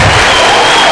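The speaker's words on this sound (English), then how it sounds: "Give yourselves a big round of applause." Loud, dense applause from a gathered audience at the opening of a youth program campus, sustained and close for the whole second with no voices over it.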